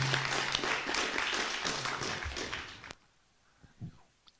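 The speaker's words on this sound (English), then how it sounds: "let's have a round of applause for our candidates" Audience applause at a 2022 mayoral and city council candidate debate in Rock Springs, a dense burst of clapping lasting about three seconds that cuts off abruptly, followed by a few faint scattered sounds.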